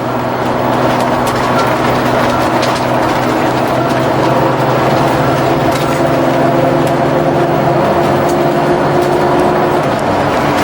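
A 2007 Holiday Rambler Neptune XL 36PDQ diesel motorhome heading down an interstate, with a loud, steady engine drone and road rumble plus interior rattles throughout.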